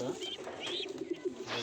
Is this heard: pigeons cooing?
yes